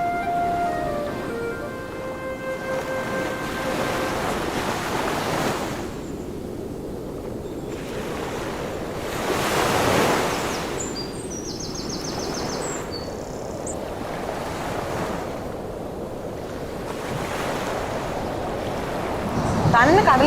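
Sea waves breaking on a beach, a steady broad wash with wind, swelling into louder surges now and then, under faint voices and a brief tonal sound at the start.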